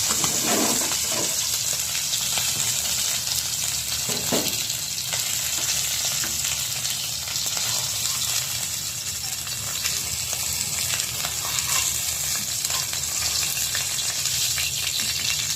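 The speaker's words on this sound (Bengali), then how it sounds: "এই যেমন মাছ ভাজাচ্ছি" Fish fries in oil in a pan, giving a steady, loud sizzle that runs without a break, with a few faint clinks of stirring.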